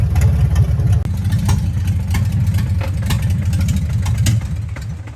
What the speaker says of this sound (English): It's sitting there idling now.